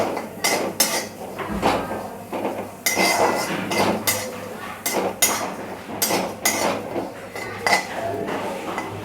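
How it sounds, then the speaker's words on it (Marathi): Dried fish (sukat) roasting in a kadhai over a gas flame, heard as repeated loud metallic clinks and scrapes of a utensil against the pan in an uneven rhythm, close up with steady background hum. "खरपूस अशी सुकट भाजून घ्यायची"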